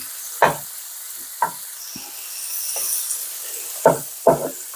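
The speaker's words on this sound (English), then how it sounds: "But now I do want to fry my bacon up." Bacon fries in a pan, a soft steady sizzle underneath a few sharp knocks and scrapes of a utensil against the pan, spaced irregularly and close by.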